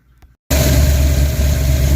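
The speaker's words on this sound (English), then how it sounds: "it's idling just fine now" After a brief quiet start, a car engine with a little choke applied settles into a steady, low idle, running evenly and close by.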